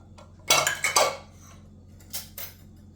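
A knife clatters and scrapes against dishes during cheesecake preparation, with a cluster of bright metallic clinks followed by a couple of lighter taps, close and clear.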